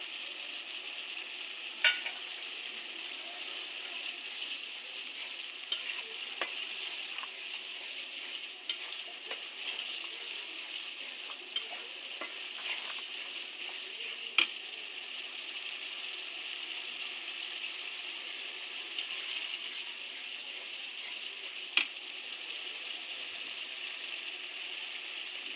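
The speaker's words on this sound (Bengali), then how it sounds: "মশলাটা একটু কষাই নিলাম, আর একটুখানি কষাইয়ে" Spice paste frying in a pan makes a long, even sizzling hiss that stays steady throughout, broken by occasional faint clicks and taps from a stirring spoon, close and moderately quiet, with no voices.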